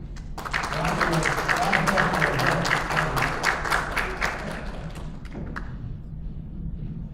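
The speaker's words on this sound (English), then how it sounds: "Let's give a big applause of" An audience at a Restream multistreaming talk breaks into applause, a dense, loud sustained clapping that fades out over the last couple of seconds.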